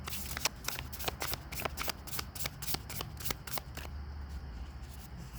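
Tarot cards being shuffled up close: a fast run of sharp, riffling flicks that keeps on for about four seconds, then gives way to a quieter hush, with no one talking.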